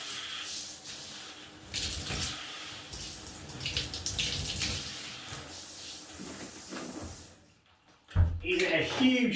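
Water sprays steadily from a Showery stone stream shower head on its normal setting rather than the jet, a continuous rushing hiss that breaks off briefly near the end before resuming.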